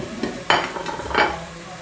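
Salted tomatoes sauté in a pan for a mushroom biryani, soft sizzling under two clattering scrapes of a spoon against the pan, close by.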